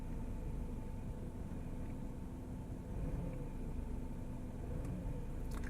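A car engine revs unevenly as the accelerator pedal is pressed by foot, the RPM unstable while checking a used car; a steady, fairly loud mid-range engine drone rises and dips slightly with no talking.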